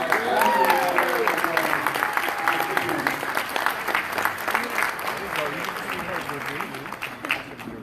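Audience applause at a family night gala, a sustained wash of clapping with voices talking over it near the start, gradually thinning out.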